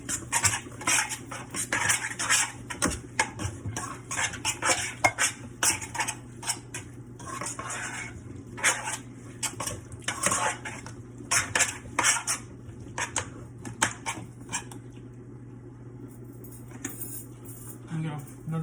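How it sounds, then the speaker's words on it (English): A utensil clinks and scrapes against a bowl while ingredients are mixed by hand, with steady irregular clattering throughout and a faint low background hum. "I'm gonna mix it all up before I put my egg and flour in there"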